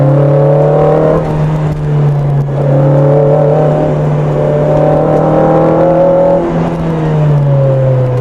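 A Lotus Elise Sport 160 engine drones loudly and close while driven hard through corners, its pitch rising and falling as the driver works through gears and eases off between pushes.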